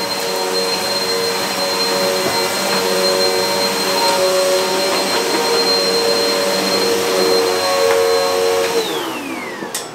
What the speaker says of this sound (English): I can plug in my Hoover, turn on the power, and I can get myself a little bit of hoovering done